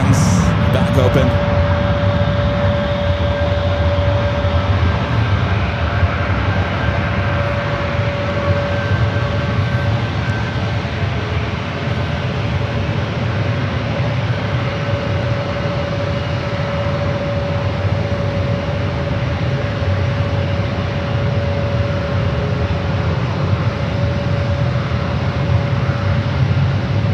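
Loud, continuous jet engine roar from aircraft at San Francisco airport holds steady throughout, a broad rumble with a thin sustained whine on top and no voices.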